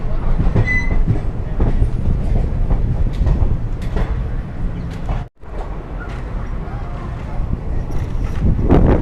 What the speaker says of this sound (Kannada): ವಿಜಯಪುರದಿಂದ ನಮ್ಮ ಟ್ರೈನು ಡಿಪಾರ್ಟ್ ಆಗಿದೆ.